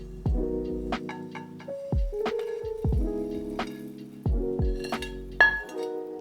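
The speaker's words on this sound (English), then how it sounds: "Using a gentle pounding motion, we're gonna grind these whole spices into a fine powder." Whole spices for green Thai curry are pounded in a mortar and pestle, each stroke giving a sharp, ringing knock in an uneven series of close, clear hits with no talking.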